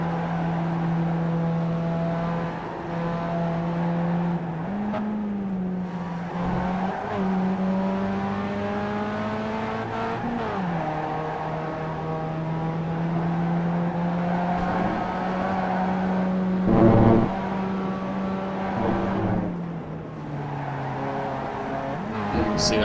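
Mazda Solstice race car in iRacing's Grand Tour Cup at Road Atlanta, its engine droning loud and close throughout, pitch climbing and dropping as it shifts gears and powers out of corners.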